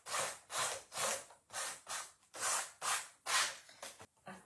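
Canvas being scuffed by hand with 120-grit sandpaper: about ten brisk, rhythmic rasping strokes, close and fairly loud, each separated by a brief pause, with no talking.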